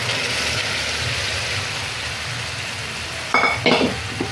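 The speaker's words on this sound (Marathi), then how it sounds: "आता आपण याच्यामध्ये आपण जे चणे आहेत ना ते टाकून द्यायचे।" Chickpeas drop into masala of tomato and onion frying in a pan, a soft continuous sizzle followed by a couple of sharper bursts of crackle and scraping near the end.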